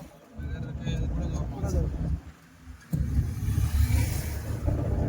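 A car being driven by a learner driver, a low engine rumble that surges and fades with acceleration while people talk inside.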